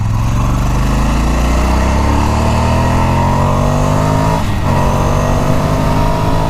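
A 2017 Ducati Scrambler motorcycle is ridden on cold roads, its engine droning loud and steady with a rising, then easing pitch, and wind noise throughout.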